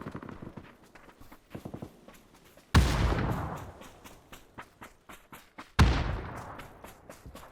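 Two loud grenade explosions in a video game, about three seconds apart, each a sharp boom with a decaying rumble, among lighter footstep-like thuds.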